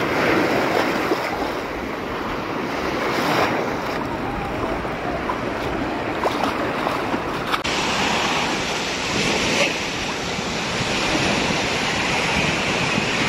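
Sea waves wash steadily onto a beach at San Lorenzo in Sicily, a shore of volcanic rock, with continuous surf and some wind noise across the microphone and no talk.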